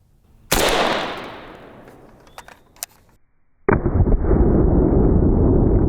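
An AK-47 fires a 7.62x39 round into body armor, giving a single loud, sharp report that decays slowly, followed a few seconds later by a harsher, sustained burst of noise.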